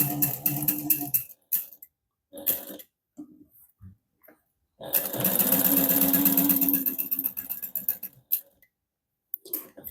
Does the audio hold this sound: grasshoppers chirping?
no